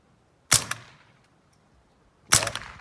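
Two sharp gunshots from a firearm fitted with a Bore Buddy extractor during a test, close and loud, spaced about two seconds apart, each with a short decaying echo.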